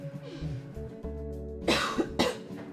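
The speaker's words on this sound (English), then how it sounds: "And now I'm coughing." A person coughs after eating quickly, two sharp, close coughs near the end following a stretch of quieter background sound.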